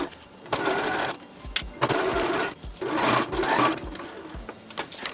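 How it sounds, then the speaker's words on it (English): A sewing machine stitches pieces of silky fabric together for an outfit, running in several close bursts of rapid mechanical whirring separated by short pauses. "we're going to sew these together and iron it"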